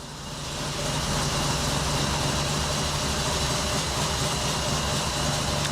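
An old barn-find BMW car, revived after 30 years, runs loud and steady while driving, a dense continuous engine rumble that swells up in the first moments and then holds.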